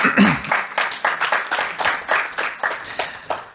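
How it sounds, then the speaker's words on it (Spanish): A small audience at a round-table panel on contracting law claps in a loose, uneven rhythm of distinct close hand claps, fairly loud and brief. "Muy bien, un aplauso."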